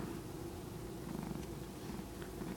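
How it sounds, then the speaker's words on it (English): A cat purring steadily and close, a continuous low rumbling throb that runs without a break and with no talking over it. "Making my cat talk."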